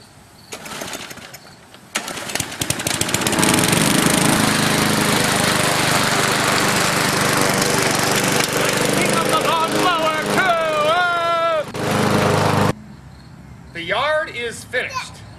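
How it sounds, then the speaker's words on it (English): Walk-behind lawn mower pulled into life, sputtering briefly before catching and roaring steadily loud through the yard mowing, then cutting off abruptly; a person talks near the end. "I gotta get mowing"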